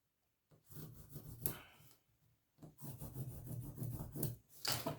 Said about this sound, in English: we're going to draw 2 lines from that center line